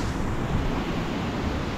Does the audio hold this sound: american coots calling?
no